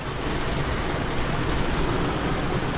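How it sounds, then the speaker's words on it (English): Heavy rain from a thunderstorm in the Kgalagadi pours down in a dense, steady roar that stays constant throughout, with no voices. "I never thought it could rain like this."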